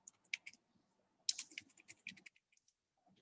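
Numbers are typed on a computer keyboard in short bursts of light, close key clicks separated by pauses, quiet and with no speech.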